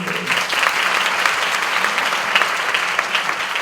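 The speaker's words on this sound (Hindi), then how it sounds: "ताली तो बजा दो।" Audience at a meditation gathering claps steadily throughout, a dense, even patter of many hands at moderate loudness with no pauses.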